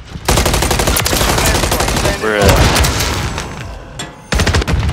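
Loud, close gunfire in the Call of Duty video game, with rapid automatic bursts filling most of the clip, a short pause, then another burst at the end.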